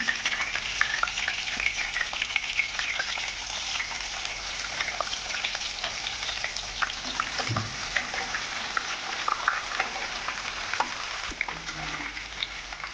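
Mustard seeds, cumin and garlic crackle and sizzle in hot oil in a home kitchen for pav bhaji, a dense continuous frying hiss with scattered pops and a stirring scrape or two, with no talking.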